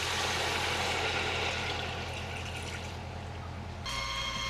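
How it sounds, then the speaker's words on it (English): Just under half a bottle of white wine poured into a cooking pot for a creamy Italian cioppino, a steady glugging stream that tapers off, with a low kitchen hum beneath. "we have about a little bit less than a half a bottle of white wine that we're going to pour right in."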